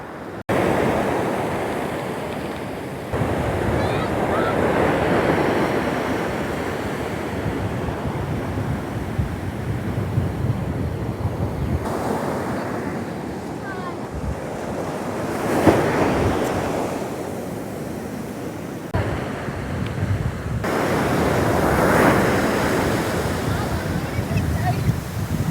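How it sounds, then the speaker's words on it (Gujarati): Rough, stormy sea surges onto a Kathiawar shore near the Ratneshwar Mahadev temple, loud rolling breakers swelling and easing in long waves under heavy wind buffeting, with faint voices at times. "સોયત્રા કાંઠે એવા મોજા આવી રહ્યા છે અને સીધું પાણી જોવા અહીંયા જઈ રહ્યું છે"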